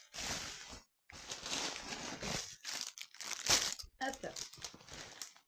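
Plastic wrapping on a package crinkles and rustles in bursts during unboxing, close and fairly loud, with brief pauses and a person speaking between the handling noises.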